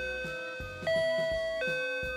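A doorbell chime rings with clear, sustained two-tone ding-dong notes heard through an intercom, repeating across a couple of seconds, loud and alone.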